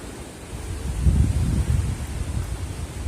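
Strong wind at 94 km/h in Nîmes buffets the microphone as a low, rumbling gust that rises after the first second and stays rough and close, with nobody talking.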